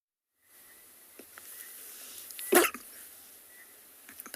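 A single human sneeze from a safari guide during a live wildlife drive in South Africa, one sharp burst midway through a quiet outdoor background.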